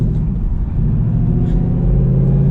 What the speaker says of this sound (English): getting this 2021 Mustang GT Premium out on the road